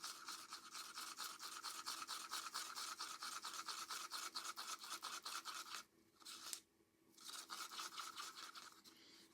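Resin being stirred in a cup, a quick, steady run of rhythmic scraping strokes close by, briefly pausing twice before resuming.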